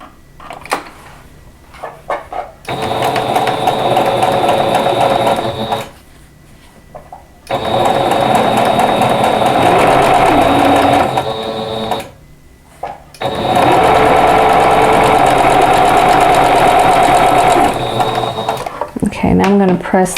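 A sewing machine stitches quilt-block triangles with a scant quarter-inch seam, running in three long, steady whirring bursts separated by short pauses, loud and close.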